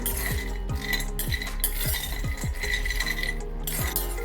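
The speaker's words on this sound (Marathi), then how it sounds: "कढी तापलेली आहे मी शेंगदाणे भाजून घेते" Peanuts dry-roasting in a hot kadhai, stirred with a utensil that makes a run of rhythmic scrapes and rattling as the nuts tumble, loud and close, with no talking.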